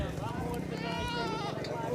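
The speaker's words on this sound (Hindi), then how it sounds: "यहाँ पे बकरी भी है" Sheep or goats bleat repeatedly amid a busy livestock market in Karachi, the animal calls mixed into a dense crowd of people talking loudly throughout.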